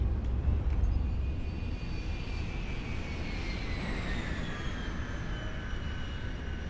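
An aircraft engine drones from a distance in the MWLL combat game, a steady faint whine slowly shifting in pitch under a low rumble, with no voices.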